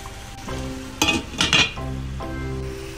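Grated bottle gourd cooking with milk after roasting in ghee for halwa: a steady close bubbling and sizzle, broken in the middle by a few loud scraping stirs and a utensil clink against the pan.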